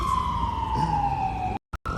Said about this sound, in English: Oh my god, the sirens again, you guys.